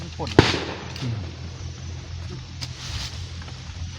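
A single sharp firecracker bang pops near the start beside a natural canal with bamboo, then the outdoor ambience continues with a few faint thuds.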